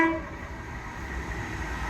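A train passes Noose Lane level crossing in the West Midlands under a steady rumble, with a short horn blast right at the start.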